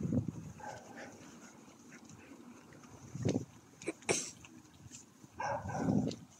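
A dog outdoors gives a few short, loud bursts, probably barks, spaced across several seconds, with a longer burst near the end and low background noise between them.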